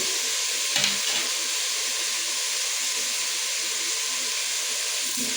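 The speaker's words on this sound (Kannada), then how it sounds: "ಎಣ್ಣೆಯಲ್ಲಿ ಚೆನ್ನಾಗಿ ಫ್ರೈ ಆಗುತ್ತದೆ." Vegetables frying in oil for veg pulao give a steady, close, loud sizzle with light stirring sounds and one brief clatter near the start, and no one speaks.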